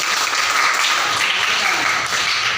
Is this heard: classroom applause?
yes